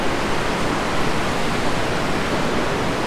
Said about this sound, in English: I didn't think you could be this close to the river